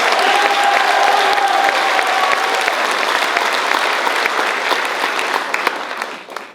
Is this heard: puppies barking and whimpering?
no